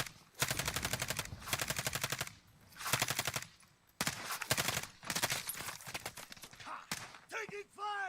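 Automatic gunfire in Call of Duty Warzone, several rapid bursts in quick succession, loud and close, with a voice speaking briefly near the end.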